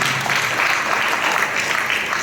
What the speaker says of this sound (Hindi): ताली बजा के परमेश्वर की